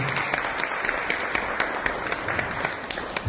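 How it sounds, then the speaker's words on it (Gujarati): Audience applause welcoming revered spiritual leaders at a religious gathering, steady dense clapping from a crowd with sharp individual claps standing out, moderately loud and continuous. "તો એમનું ખૂબ તાળીઓથી સ્વાગત કરીએ છીએ."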